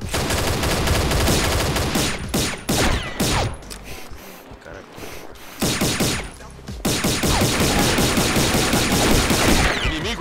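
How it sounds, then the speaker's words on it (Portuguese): Dense automatic gunfire in the online shooter Combat Arms during a capture-the-flag round, with rapid bursts nearly continuous, a brief lull midway, then renewed heavy firing. "vai três tiros de 100 pra matar o cara"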